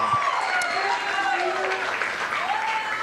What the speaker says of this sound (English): Let's give one more round of applause to King.